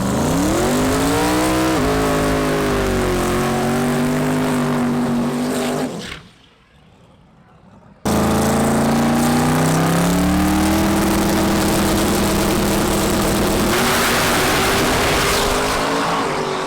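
A drag racing car at the track revs its engine loudly and close by, with sustained rising and falling roars that cut out into a brief near-silent gap before the engine screams back up for another long run.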